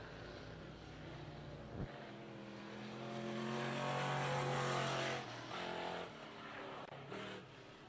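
Dirt track 358 modified race cars roar past at a speedway, engines rising to a loud, rasping peak and then fading as the pack moves away, with no talk.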